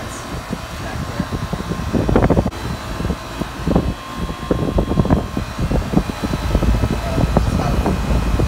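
An air conditioning condenser with a Genteq fan motor and a Bristol reciprocating compressor runs outdoors, a steady loud whooshing hum with gusty wind buffeting the microphone throughout.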